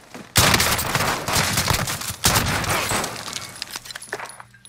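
Heavy, close shotgun blasts in a tactical multiplayer shooter, an abrupt loud burst followed by dense crackling gunfire and a second sharp blast, with no voices over them.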